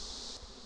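Honey bees buzz in a steady, dense hum as a beehive is opened for inspection, faint and close with no voices.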